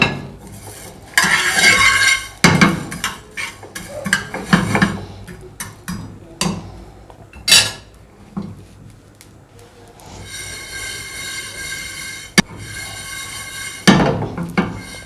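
Whole coriander seeds and black pepper dry-roast in a pan, stirred with intermittent metallic scrapes and rattling clatters separated by quieter stretches.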